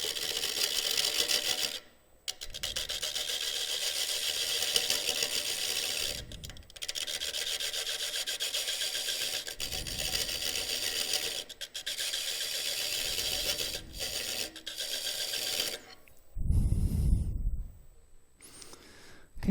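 A lathe tool scrapes and rubs against a spinning shallow stave bowl at about 600 RPM in repeated passes, a harsh raspy hiss broken by short pauses and ending with a low whooshing thump.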